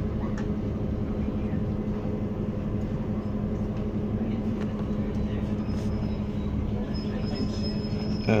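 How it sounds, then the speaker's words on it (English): A train arriving at Bristol Temple Meads station rumbles steadily along the rails with a constant low drone, faint metallic squeals creeping in near the end as it slows. "now riding into Bristol Temple Meads where this train will terminate"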